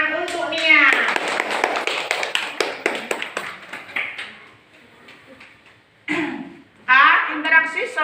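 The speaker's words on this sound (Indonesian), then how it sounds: "ya, kasih tepuk tangan untuk Nia." Classroom pupils clap their hands in a burst of quick, close, sharp claps that thin out and fade, with a voice speaking before and after.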